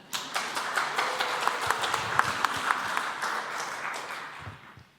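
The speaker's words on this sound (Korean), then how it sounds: "박수 좀 부탁드립니다" A church congregation claps for a middle-school student about to give a mission-trip report, a steady burst of many hands that holds for several seconds and tapers off at the end, with no voices over it.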